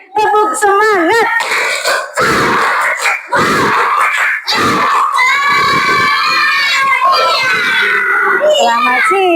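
A classroom group of children repeats a spirit clap chant in a loud chorus, with choppy bursts of shouting and clapping followed by a long, sustained unison cry.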